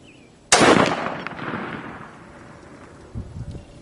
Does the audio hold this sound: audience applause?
no